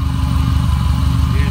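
A BUGaru project vehicle's engine idles in a loud, steady low rumble with an even rhythmic pulse.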